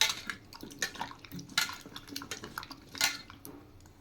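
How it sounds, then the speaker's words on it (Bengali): Taro stems are rubbed and washed with water, giving scattered wet splashes, drips and light clinks of a pot or bowl, fairly close and soft, with no talking. "এবার আরেকটু ঘষে নেব জল দিয়ে।"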